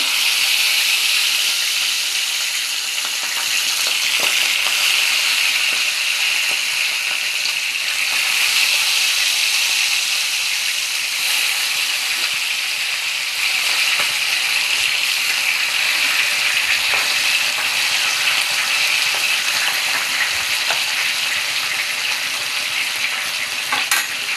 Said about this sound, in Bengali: এই যে আমার মাছ ভাজা হচ্ছে